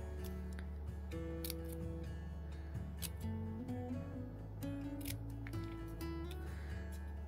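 Scissors trimming card paper, a series of crisp snipping cuts at irregular intervals over a constant low hum, close and moderately faint.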